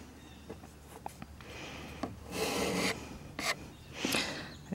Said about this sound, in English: what you do is you come in and wipe off the excess